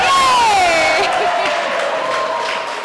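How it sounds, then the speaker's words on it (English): Crowd at a skittles match cheering and applauding, a bright whoop and rising cheers up front that fade into scattered clapping and voices over a few seconds. "Good, well-deserved round of applause there."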